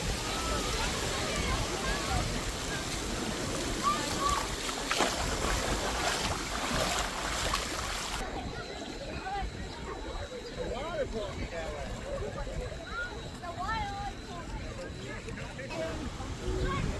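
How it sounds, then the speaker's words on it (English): Waterfalls at Rolling Hills Water Park in Ypsilanti, Michigan, a steady broadband rush of falling water close by, continuous throughout with people talking over it. "Got some waterfalls."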